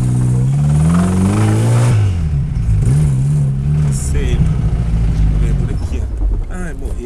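A Chevrolet Chevette engine revs hard and then drops back, a loud, close, rough mechanical drone with rising and falling pitch, running steadily throughout.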